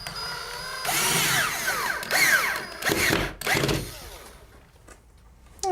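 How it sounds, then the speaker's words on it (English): A power drill drives a screw through a shelf bracket into a wooden wall stud, its motor whining and rising in pitch over several pulsing bursts, close and loud, before trailing off into quiet. "screwing that bracket into the stud so it'll hold our shelf securely in place"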